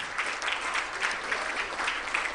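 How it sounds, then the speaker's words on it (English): An audience applauds an anniversary couple at a live-stream music show, a steady, even wash of many hands clapping together at moderate volume, with no talk over it. "Can we have a round of applause?"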